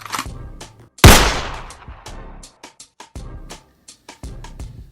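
A single loud, sharp gunshot sound effect cracks out near the start and decays quickly, set among a cluttered mix of other brief sounds and pauses.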